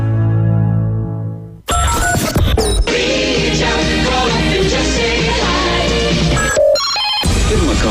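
A telephone rings loudly in a repeating pattern over a busy, music-like background on a sports talk radio call-in show, with a brief pause partway through.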